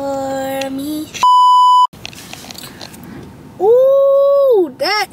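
A car beeps as a phone pairs with it: a single steady electronic tone lasting about half a second, set among other tonal sounds and sweeping, voice-like notes.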